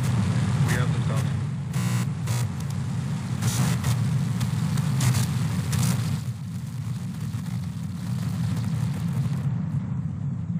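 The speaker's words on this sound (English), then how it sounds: "We have liftoff." SpaceX Starship's fourth launch lifts off with a heavy, continuous low rumble and roar, dense and sustained, with a voice speaking over it.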